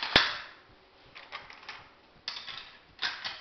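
Shots from an FR-8 sport hunting rifle in .308 Winchester on a 100 m range: one sharp crack near the start, followed by fainter clattering bursts and later impacts. All of it sounds distant and thin, with no talk.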